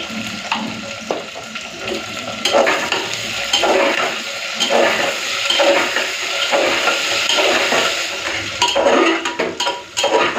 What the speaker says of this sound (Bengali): কেটে রাখা আলু আর পেঁপে অল্প একটুখানি নুন দিয়ে আলু আর পেঁপেটাকে দু চার মিনিট একটুখানি ভেজে নিই